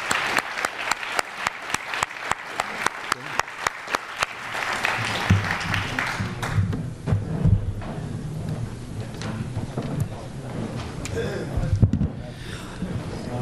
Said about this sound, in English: I'd like another round of applause and thank the World War II Museum for having us yet again.